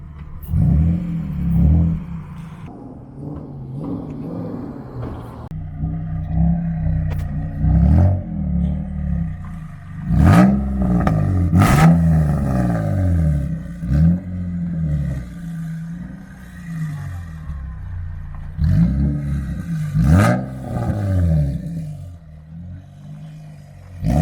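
A G35 drift build car with a Spec D Tuning aftermarket exhaust revs repeatedly, loud throaty rising and falling sweeps separated by sharp crackling pops, heard close with no talking.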